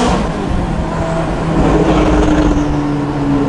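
McLaren 570GT supercar engine revving lightly under gentle acceleration, a loud, close, rising engine note with road rumble from inside the cabin.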